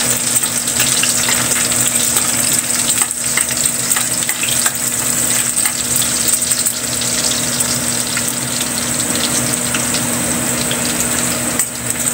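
Garlic sizzles and fries steadily in a hot pan for a Bisaya-style pork humba, a dense continuous crackle at close range with no one talking.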